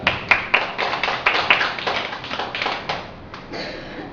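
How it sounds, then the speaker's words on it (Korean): A church congregation clapping during a Sunday morning service, a short round of fairly close, irregular hand claps that taper off, no voices. "자, 박수 한번 칩시다."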